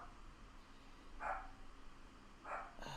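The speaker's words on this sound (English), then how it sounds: "I gotta get her to quit barking." A dog barks indoors twice, about a second apart: two short, fairly faint woofs over a quiet background hiss.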